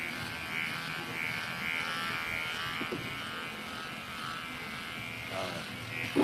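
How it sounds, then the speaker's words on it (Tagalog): A 4-in-1 electric pet hair trimmer buzzes steadily and continuously while grooming a dog at home, a close, even motor hum with no talking. "Ayun, 4-in-1 pet hair trimmer."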